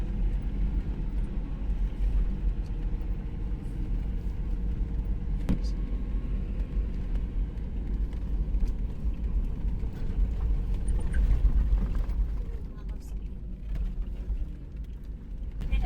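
A car drives slowly over a snowy mountain road near the frozen Kalam lakes, with a steady low engine and road rumble heard from inside and a voice talking over it.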